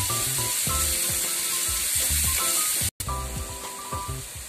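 Onion and sliced val beans fry in a pan with a loud, steady sizzle that fills the whole stretch, briefly cut off once before resuming, with no voices.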